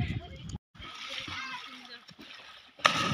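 Splashing water as people jump into a swimming pool from a height, with loud splashes near the start and end and sloshing between, while excited voices chatter over the commotion.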